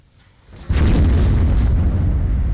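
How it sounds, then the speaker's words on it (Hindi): A heavy blast from bombardment in the Russia-Ukraine war erupts suddenly after a quiet moment, then rolls on as a loud, deep, sustained rumble. "ये जो आप धमाके की आवाज सुन रहे हैं, ये ब्लास्ट है, ये गोलीबारी है"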